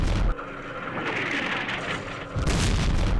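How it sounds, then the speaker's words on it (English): Artillery explosions in the video game Campaign Series Vietnam, a loud sustained rumbling boom that swells again toward the end, heavy and close, with no voices. "So I'm hoping that artillery can smoke them."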